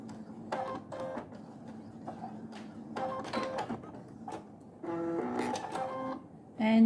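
A sewing machine back stitches a pleated silky cravat in short, repeated mechanical whirring bursts, quiet and close, separated by brief pauses.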